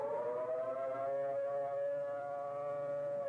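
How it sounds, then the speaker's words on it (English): A steady civil defense attack warning siren wails from a distance, its pitch gently wavering, with no voices. "The attack warning signal is a 3 to 5 minute wavering sound"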